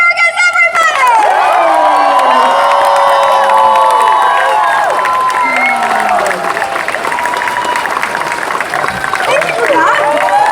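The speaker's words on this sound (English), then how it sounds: "Let's get a big warm round of applause" Audience at a Galaxycon Austin 2023 convention stage cheers, whoops and applauds loudly and continuously as a guest actor walks on, a dense crowd roar filling the whole stretch.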